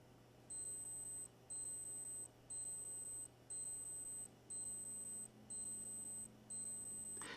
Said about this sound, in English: you can actually just set the alarm off immediately